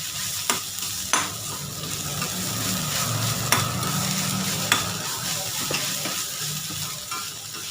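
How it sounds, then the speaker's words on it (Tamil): Ginger garlic paste stir-fries in a pan with a continuous close sizzle, punctuated by several sharp spatula taps and scrapes against the pan at irregular intervals. "இந்த இஞ்சி பூண்டு வாசனை போகிற அளவுக்கு ஃப்ரை பண்ணால் போதும்"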